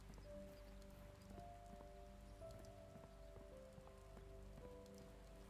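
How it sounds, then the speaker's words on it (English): Steady rain falls in the voxel game cyubeVR's weather effect, a soft continuous patter heard alone at low volume with faint tonal game sounds layered underneath. "It's raining."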